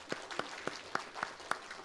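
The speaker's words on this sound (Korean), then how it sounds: "우리 격려 박수하도록 하겠습니다." Church congregation at a Sunday worship service giving applause of encouragement, heard as a handful of fairly distinct claps spaced at a steady rhythm, soft and somewhat distant.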